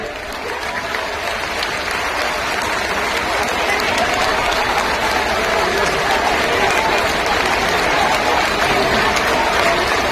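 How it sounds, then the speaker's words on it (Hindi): A large crowd at a Bahujan Samaj Party rally in Nawanshahr, Punjab applauds steadily to welcome Mayawati, dense continuous clapping that holds for about ten seconds with a voice faintly underneath. "तालियों के साथ स्वागत करने का काम करें"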